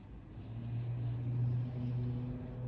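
A car driving by outdoors, a low steady engine rumble that swells gently and fades slightly, moderately faint and heard alone without talk.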